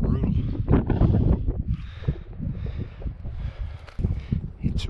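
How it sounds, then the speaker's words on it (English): Strong gusty wind roars and buffets the microphone in heavy low bursts, rising and falling, with some hissing rustle, outdoors on a dry, smoky day during Colorado elk archery hunting. "It's really, really windy out."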